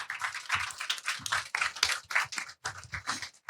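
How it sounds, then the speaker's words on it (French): Audience applause at a live comedy talk event, a dense crackle of many hands clapping with uneven swells and brief dips, fairly close and filling the whole moment without speech. "Merci, on peut les applaudir."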